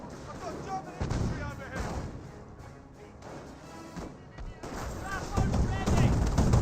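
Gunfire and explosions in the World War II strategy game Company of Heroes 1, sharp cracks and heavy bursts scattered across the battle, with a commentator talking throughout.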